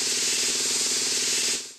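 A spray gun paints over stains in a kids' house-building video game, giving a loud, continuous hiss close up that cuts off at the end.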